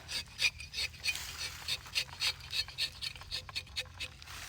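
A tapping knife cuts into the bark of a rubber tree: quick, rhythmic scraping strokes, about a dozen in a row, close but soft, with no talking over them.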